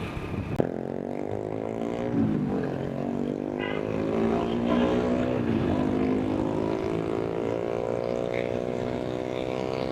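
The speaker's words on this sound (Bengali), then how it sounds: "জাহাজ চলতেছে" A boat's engine drones on Hatirjheel lake in Dhaka. The steady, humming tone slowly rises in pitch and holds continuously at moderate loudness, with faint background noise.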